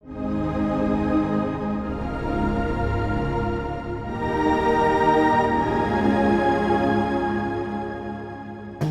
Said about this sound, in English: I believe it's the Rich String pad right here.